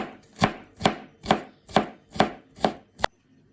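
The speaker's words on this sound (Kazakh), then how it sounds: "Чеснокты да осылай ұсақтап тураймыз." A knife chops garlic finely on a board in seven evenly spaced, sharp strokes, each one close and loud, with no other sound between them.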